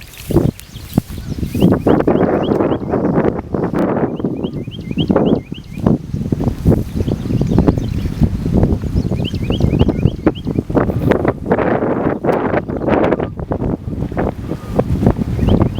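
Strong wind buffets the microphone on a bass fishing boat out on open water, a steady roaring rumble with broadband gusts that carries loudly through the whole stretch without letup.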